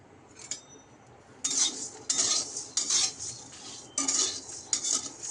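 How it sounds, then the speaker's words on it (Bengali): Cumin, coriander, black pepper, dried chillies and fennel are dry-roasted in an empty wok, stirred with a metal utensil in repeated scraping, rattling bursts, each a second or so long, separated by short quiet gaps. "মশলাগুলো আমরা শুকনো কড়ায় ভেজে নেব।"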